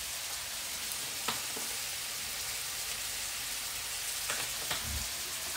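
Summer squash seasoned with garlic powder sizzles steadily in a pan, with a few soft clinks and stirring thumps as it is tossed, all fairly quiet.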